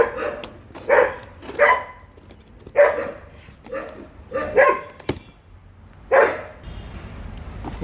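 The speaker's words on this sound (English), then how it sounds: "Sorry about my dogs, they are acting up." Several dogs bark indoors nearby in sharp, loud, irregular bursts of one or two barks each, with short quiet gaps between them.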